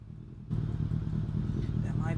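A cheap junk moped engine cranks over without firing, a steady rhythmic churning that starts abruptly and continues close by, fairly quiet, with no catch or rev.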